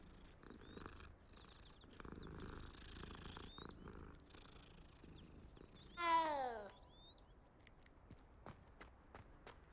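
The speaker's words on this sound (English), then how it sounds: "I mean, of course you have to pet the cat" In the video game Hogwarts Legacy, a cat purrs softly while being petted and gives one clear meow partway through, with light footsteps around it.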